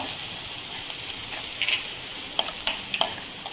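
Spices with turmeric and salt sizzle in hot oil with a steady frying hiss, broken by a few sharp crackles and pops toward the end; no one speaks.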